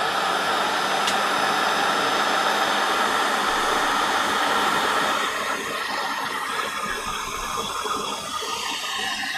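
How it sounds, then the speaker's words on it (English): Industrial heat gun blasting hot air onto a craft magazine box kit, a steady loud broadband whoosh running throughout with no talk. "just bear with me while I give this a blast with my heat gun"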